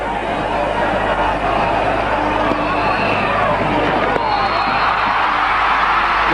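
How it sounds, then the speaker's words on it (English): A cricket crowd roars steadily at a West Indies versus India one-day international as Shivnarine Chanderpaul reaches his maiden ODI hundred, a dense, continuous wall of cheering and hubbub that fills the whole moment. "The crowd erupts"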